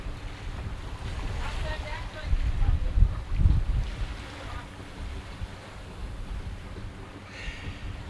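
A sailboat runs on a reach in strong wind of more than 17 knots with only the genoa out, wind rushing over the microphone and water washing against the hull in a continuous, fairly faint roar.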